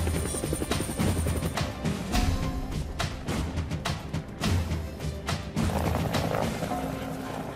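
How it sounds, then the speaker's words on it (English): Loud, close helicopter noise with a steady churning rotor thump and broadband engine roar throughout, with no voices. "helicopter, you can come."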